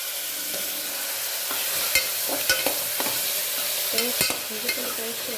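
Onion and ginger-garlic paste sauté in a pan for tomato kurma, making a constant close sizzle broken by a handful of spatula scrapes and taps.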